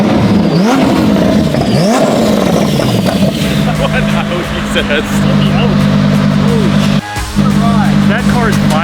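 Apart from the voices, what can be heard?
Lamborghini engine revving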